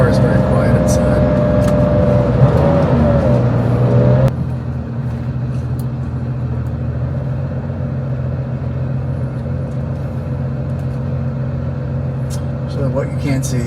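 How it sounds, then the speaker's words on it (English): Steady low road drone and muted engine hum inside a moving 1996 Porsche 911 Carrera cabin, louder for the first few seconds and then calmer and even, with a person talking over it. "You'll notice the car is very quiet inside."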